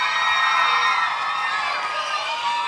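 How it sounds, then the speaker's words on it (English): A big crowd at a Trick-or-Treat for UNICEF event applauds and cheers steadily, a dense, bright wash of clapping and shouts that holds level for a few seconds without speech. "So I hope you guys give her a big round of applause."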